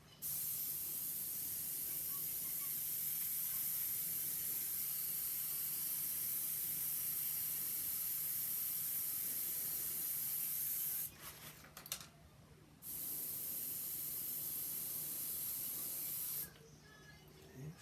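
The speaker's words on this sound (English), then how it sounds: "Airbrush isn't particularly time consuming" Steady airbrush spray hissing while painting graffiti-style art, a continuous airy stream that stops briefly twice before resuming.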